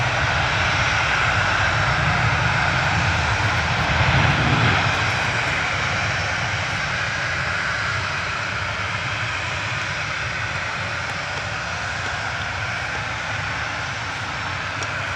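A Jet2 airliner's engines roar steadily at Manchester Airport, a broad continuous rumble that swells slightly early on and then holds, moderately loud with no talk.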